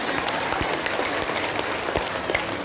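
Audience applause at an Islamic religious gathering led by Ustad Maulana, a steady dense patter of many hands clapping throughout, moderately loud and fairly close, with no voices over it.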